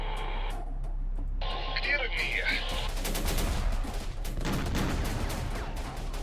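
Weapons firing in the Syrian Warfare video game, repeated bursts of distant gunfire and explosions under a voice and radio-like chatter, moderately loud throughout.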